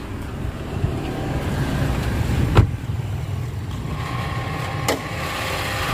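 The 1.6-litre four-cylinder engine of a 2004 Suzuki Escudo, a rear-wheel-drive manual SUV, idles with a steady low rumble close by, marked by two brief sharp clicks.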